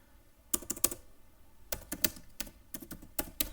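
Python code typed on a computer keyboard: three quick bursts of close, crisp keystrokes separated by short pauses, with no voice.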